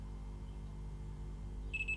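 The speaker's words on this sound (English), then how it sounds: "Multimeter on to continuity test. So we'll hear the beep." Multimeter set to continuity testing on an Atari ST joystick extension cable gives a short high-pitched electronic beep near the end, faint over a low steady hum.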